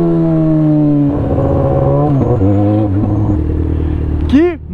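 A new Yamaha XJ6 motorcycle engine runs close by, its steady harmonic drone shifting pitch as it revs and changes gear, with a brief rising whine near the end.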